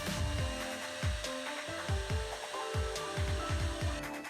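An electric drill runs continuously while a cloth rubs wood-impregnating oil into a spinning wooden part, giving a steady whine broken by repeated low swooshing pulses from the rubbing, close and fairly quiet.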